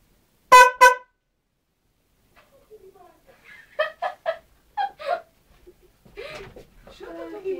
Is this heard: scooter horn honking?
yes